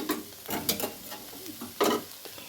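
Cabbage frying in a pan while being stirred: a steady low sizzle broken by several scraping, clattering stir strokes, close and fairly quiet.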